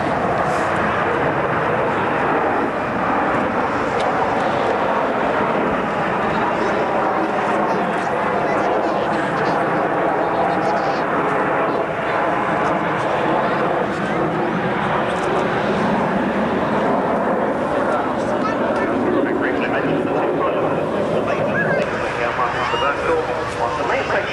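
Military jet aircraft flying a display circuit at the RAF Valley air show on Anglesey in 1991, a continuous distant engine roar that swells and fades, heard under an announcer's commentary over the loudspeakers.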